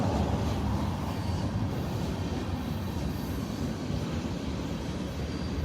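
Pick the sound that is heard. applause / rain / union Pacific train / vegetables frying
union Pacific train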